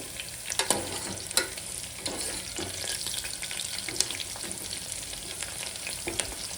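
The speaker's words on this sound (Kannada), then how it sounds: "ಈರುಳ್ಳಿ ಚೆನ್ನಾಗಿ ಫ್ರೈ ಆಗೈತಿ" Onions fry in a pan, browning, with a steady broadband sizzle and a few sharp stirring scrapes and clicks scattered through; moderately quiet and continuous, with no talking.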